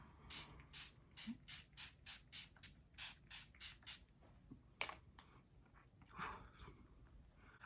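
Farsali Rose Gold Skin Mist sprayed in a rapid series of about a dozen close, sharp hissing pumps, followed by a few scattered sprays and faint handling sounds.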